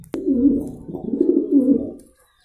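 Pigeons coo in a low, throaty warble, several rolling calls overlapping close by, with a sharp click at the start and silence at the end.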